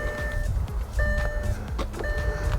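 Power tailgate on an MG EHS SUV closing on its own: a steady electric motor whir with repeated warning beeps over a low hum, heard close and alone.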